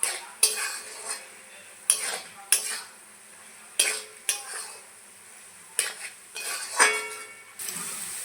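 Spices with cumin powder fry in a pan for a mung dal and ash gourd dish, as a metal spoon repeatedly clinks and scrapes against the pan in uneven strokes over a soft, close sizzle.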